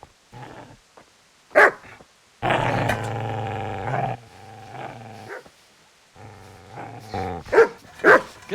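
Dog in the video game Kingdom Come: Deliverance growling low and sustained, broken by several sharp close barks, with a long snarling stretch in the middle and quick yaps near the end.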